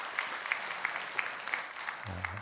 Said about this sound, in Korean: 우리 박수 한번 크게 한번 해주셔요